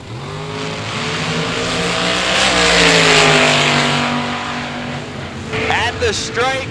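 Drag race cars launch down the strip, including a supercharged blower car, with a loud engine roar that climbs in pitch and swells before fading, while an announcer talks over it.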